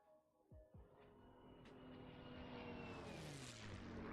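A WWII propeller fighter in a flight simulator, its supercharged engine starting with a couple of coughs then building to a steady droning roar with a rising whine that swells toward the end.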